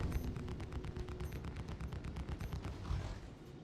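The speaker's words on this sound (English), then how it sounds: "those fucking turrets are super active" Rapid automatic turret fire in a video game, a dense steady stream of gunshots repeating throughout with a slightly heavier burst near the end.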